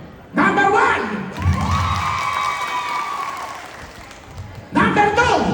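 Audience clapping and cheering at a live show for contestant number one, loud crowd noise bursting in, a sustained cheer with shouting voices in the middle, then another burst of applause at the end.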